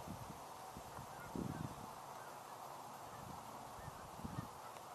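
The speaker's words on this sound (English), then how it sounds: "There are ducks back there too." Ducks call from a distance in a wetland setting, with a few faint honking and quacking bursts rising over steady outdoor ambient noise and no talk.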